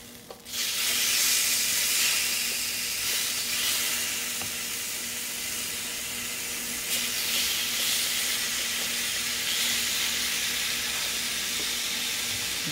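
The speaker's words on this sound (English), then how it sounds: "Sizzle, sizzle." Seasoned chicken thighs hit a hot grill and sizzle loudly, a steady bright hiss that starts after a brief quiet moment and keeps going unbroken, close and alone.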